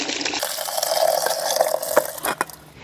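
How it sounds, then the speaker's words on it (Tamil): Boiled chicken and its water are poured into a pressure cooker, making a close, gurgling splash that tapers into a few final drips and sloshes. "இப்போ ஆல்ரெடி நம்ம கொதிக்க வச்சிருக்க சிக்கன், தண்ணி இது எல்லாத்தையும் இதிலே ஊற்றிடலாம்"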